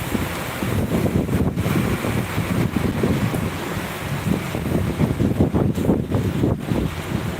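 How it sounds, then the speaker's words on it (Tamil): Strong wind from Cyclone Fengal roars steadily and buffets the microphone with a dense, rumbling rush that never lets up. "பட் காற்று அடிக்குது காற்று"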